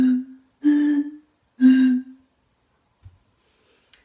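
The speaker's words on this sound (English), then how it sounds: "Or you can even blow into these ones at the bottles." Someone blows across the tops of glass bottles, producing three breathy, hooting low tones, each held under a second with pauses between, close and fairly loud.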